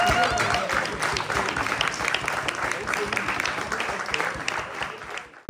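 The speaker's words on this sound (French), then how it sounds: "On peut les applaudir le stand." A crowd claps for a police stand at an event, a busy, uneven patter of hands mixed with talk and background chatter, which tapers off and cuts out abruptly at the end.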